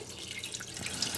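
Water pours steadily into a pressure cooker holding chicken, a soft continuous splashing trickle heard close and alone.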